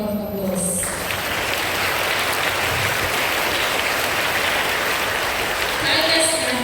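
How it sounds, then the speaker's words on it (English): A school assembly audience gives a big round of applause, dense continuous clapping that fills the room and stays steady throughout, with a few faint voices underneath. "So let us give them a big round of applause."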